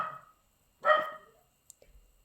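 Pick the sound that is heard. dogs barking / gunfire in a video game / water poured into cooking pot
dogs barking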